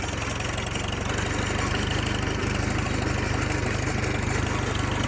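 A 1938 Farmall F-20 tractor engine runs steadily in second gear, a close, continuous low rumble with a rough, knocking pulse and constant loudness throughout.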